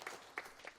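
Brief, faint applause from a church congregation for the choir, a soft spread of clapping with a few slightly louder claps standing out.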